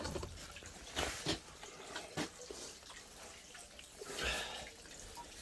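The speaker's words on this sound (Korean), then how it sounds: "다행히 여기 보시면은 물은 이제 잘 나오는데" Water from a tap at a mountain home near Hambaeksan in windy winter weather runs and gurgles in faint, uneven surges, with no talking.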